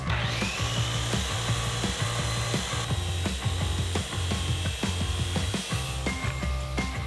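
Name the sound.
saw cutting a wooden door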